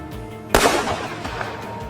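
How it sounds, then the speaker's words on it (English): A single sharp rifle gunshot during a wild boar hunt, a loud close crack followed by a short decaying echo against quiet surroundings. "The gunshot cracked sharply through the air, swift and precise"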